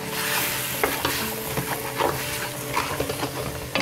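Half a cup of bourbon goes into a pot of beef shank and short rib stew, setting off a steady close sizzle and hiss with light stirring scrapes and clinks, no one speaking.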